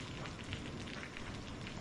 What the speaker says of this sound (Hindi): बाबा जी, यह बारिश कब तक रुकेगी?